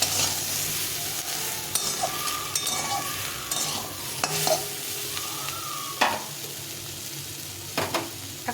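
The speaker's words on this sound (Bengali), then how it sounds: "একটু ভালো করে ভেজে নিতে হবে বেশ কিছুক্ষণ ধরে।" Jackfruit seeds frying in a pan on the stove, a steady close sizzle with a spoon stirring and scraping through them in occasional knocks and scrapes.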